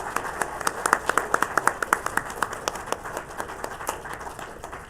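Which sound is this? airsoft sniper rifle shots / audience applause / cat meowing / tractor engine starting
audience applause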